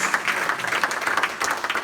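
A church congregation applauds at a revival service, a dense, steady wash of clapping from many hands in a large room, with no clear speech on top.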